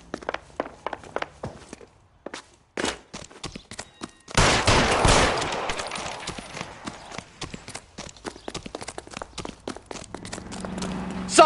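Gunfire in L.A. Noire: a scattered series of sharp shots and cracks, then a dense burst of rapid fire and rumbling noise in the middle that trails off into further sporadic bangs.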